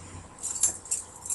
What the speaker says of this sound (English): It looks a little ridiculous with how many keys I have